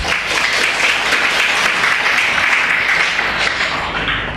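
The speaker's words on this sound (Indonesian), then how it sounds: "Saya memang pantas untuk diberi tepuk tangan." An audience applauds steadily and loudly throughout, a dense wash of clapping hands with no break.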